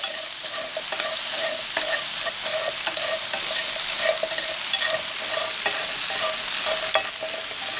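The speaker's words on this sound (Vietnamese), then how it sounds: "Kế đến thì mình cho đầu tôm vào để rang." Shrimp heads sizzle steadily in a hot pan as they are stir-fried, with a continuous crackling hiss broken by frequent small pops and the scrape of stirring.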